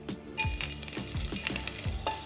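Chopped garlic and ginger sautéing in a pan over a low gas flame, with a soft steady sizzle and repeated scraping stirs at a quick, uneven rhythm, close by and with no talking.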